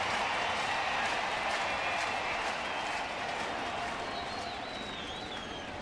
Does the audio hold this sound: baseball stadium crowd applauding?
yes